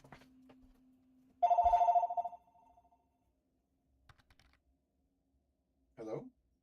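A real telephone rings once indoors with a bright, warbling electronic tone lasting under a second, followed by near silence, a few faint clicks and a short burst of voice.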